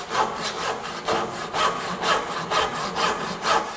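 Hand saw cutting wood for a dovetail joint on a budget split-top Roubo workbench: steady rhythmic rasping strokes, about two per second, close and alone.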